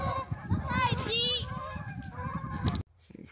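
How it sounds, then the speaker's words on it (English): Geese honk loudly and repeatedly at close range, calling over one another in a dense, continuous chorus that ends abruptly, followed by faint quieter sounds. "Funny how these geese act."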